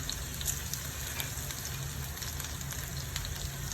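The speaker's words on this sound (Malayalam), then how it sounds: "വറ്റൽമുളക് ഇട്ട് കൊടുക്കാം" Dried red chillies sizzle in hot oil for an Angamali-style mango curry, a steady, fairly quiet frying hiss with soft crackles and no talk.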